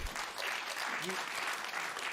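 Steady applause from a crowd, sustained and even throughout, with faint voices mixed in.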